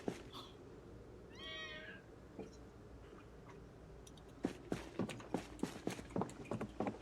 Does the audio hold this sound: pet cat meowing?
yes